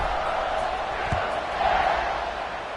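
Stadium crowd roar in the NCAA 26 college football game, a steady dense wash of many voices with a slight swell near the end and a dull thump partway through.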